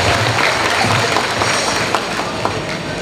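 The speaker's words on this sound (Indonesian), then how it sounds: "tepuk tangan dulu untuk istriku, kasihan" Loud, close crowd clapping from a mosque congregation at an Islamic sermon, a dense roar of hands with scattered sharper claps running continuously throughout.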